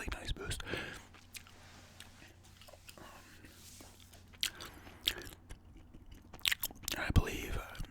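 Gum chewing with soft whispering, close and intimate: wet, crackly mouth clicks and smacks recur irregularly under a breathy whispered voice.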